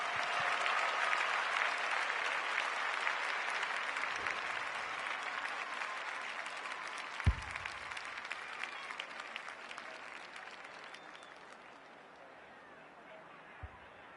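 A football crowd at a women's league match applauding and cheering after a goal, a loud sustained roar of clapping that gradually fades over the final seconds, with a couple of sharp thumps.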